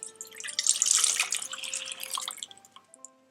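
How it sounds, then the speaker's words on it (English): Milk pours into a pot on a medium heat in a soft, close, splashing trickle that swells and then tapers off over about three seconds, with quiet clinks near the end. "we're going to place in our milk."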